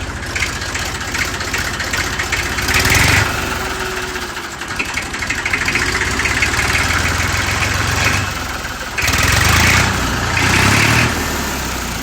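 A tractor engine idles nearby with a steady knocking rumble, swelling louder in a few brief revving bursts before settling back.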